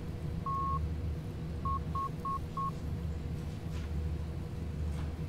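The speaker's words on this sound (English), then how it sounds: "That beeping indicates that we've now picked up the ILS receiver" A steady electronic beep tone of an ILS receiver in a CRJ200 cockpit in X-Plane 11, one longer note then four short evenly spaced beeps, over a constant engine hum and rumble.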